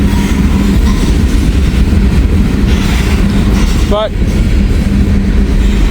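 A train passing on a rail line along the Donut Trail, a loud, steady rumble of wheels and cars rolling by close up, with a brief voice cutting in once.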